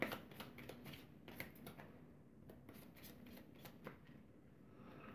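A deck of cards riffle-shuffled during a tabletop Hero Realms co-op game, a quiet, close flurry of rapid papery flutters and snaps lasting several seconds with no talking.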